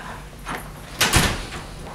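Indoors, a door pushes shut with a brief soft thud and rattle, near and moderately loud, following a faint shuffle.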